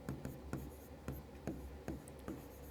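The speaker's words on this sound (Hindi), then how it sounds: "इसके आगे हम लिखेंगे अतः" Chalk or marker strokes on a classroom board come as short, regular scratchy bursts, about two per second, close and fairly quiet with no talk over them.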